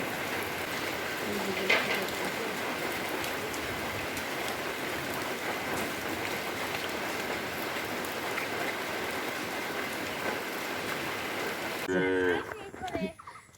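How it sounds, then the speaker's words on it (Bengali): Morning rain falling steadily, a dense even patter on surfaces throughout, ending with a brief close rustle. "সকাল সকাল বৃষ্টি শুরু হয়ে গেছে"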